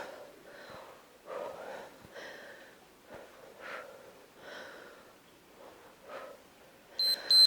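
Heavy breathing and exertion sounds are followed by a short electronic timer beep near the end.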